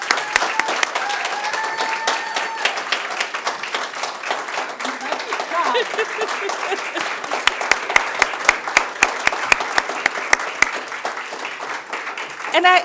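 An audience at a university faculty of education alumni launch applauds the dean, a dense run of clapping that lasts throughout, with sharper individual claps standing out near the end and some voices mixed in.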